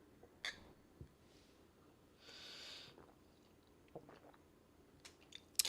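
Sushi being chewed up close and quietly, with sparse wet squishes and bites, a soft snort-like breath and a few sharp mouth clicks in between.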